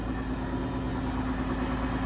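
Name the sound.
tractor emergency brake buzzing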